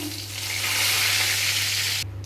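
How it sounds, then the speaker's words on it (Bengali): Dried red chillies and bay leaf sizzle steadily in homemade ghee, a close, continuous frying hiss that holds level before cutting off abruptly near the end. "এরপর তেজপাতা দিয়ে দিলাম ঘিয়ের মধ্যে"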